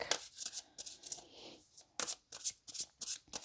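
Tarot cards are shuffled in quick bursts of papery riffling and flicking, soft and close, with short pauses between bursts.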